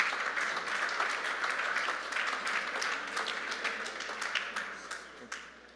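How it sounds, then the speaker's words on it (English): Conference audience applauding at an esports event, a dense steady wash of many hands clapping that holds throughout, fairly close, with a few sharper individual claps standing out and no voices on top. "Please give him a round of applause."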